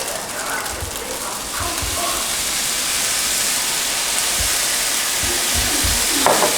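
Fried rice sizzling loudly in a hot pan with soy sauce added, a dense continuous hiss broken by occasional low thumps and scraping as it is stirred.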